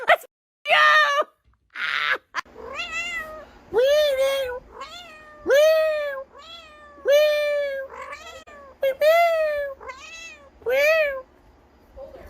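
Cats meow repeatedly in a close, loud series of drawn-out, wavering cries, some strained and caterwaul-like, coming in bursts with brief silences between them, plus a couple of short scuffling noises early on.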